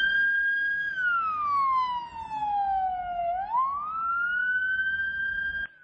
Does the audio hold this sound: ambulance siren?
yes